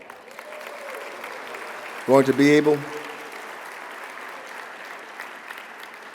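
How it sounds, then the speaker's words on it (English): An event audience claps steadily for a winner, a constant bed of applause with a voice cutting in briefly over it partway through. "Let's give the winner another round of applause."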